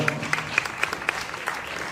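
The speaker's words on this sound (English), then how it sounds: "round of applause for our 2 participants for such a great championship match" An audience at the WPBA Soaring Eagle Masters pool championship final claps after the match, a steady patter of applause with sharper individual claps, moderately close, a faint voice briefly underneath.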